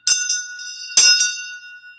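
A Tibetan shang bell in Chod meditation is struck twice about a second apart, each bright metallic ring decaying slowly, close and clear with no voices.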